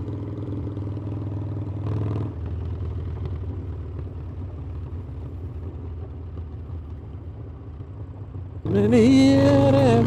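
Air-cooled Harley-Davidson Forty-Eight motorcycle engine idling with a deep, lumpy rumble, briefly rising around two seconds, then a loud rev surges near the end.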